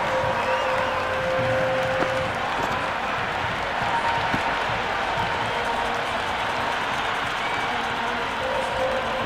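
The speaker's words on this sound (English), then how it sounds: "There's a buzz, a real buzz coming from the stands." A virtual cricket stadium crowd in a PlayStation IPL match between Sunrisers Hyderabad and Punjab Kings roars continuously, a broad, sustained wash of cheering and clapping with a few faint whistles and no clear talk.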